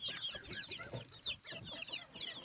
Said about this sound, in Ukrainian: Ось мої бентамочки маленькі, скучкувалися тут в кутку.